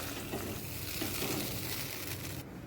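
Water poured into hot oil with ginger paste sets off a loud, dense, continuous sizzle that holds steady before cutting back near the end, with no voices.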